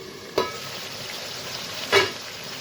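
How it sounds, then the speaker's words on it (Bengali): Duck meat frying in a pan is stirred twice, two distinct scraping strokes over a continuous soft sizzle, close and fairly loud, with no one speaking. "তো মাংসগুলো ছেড়ে দেব, ভালোভাবে নেড়ে নিই"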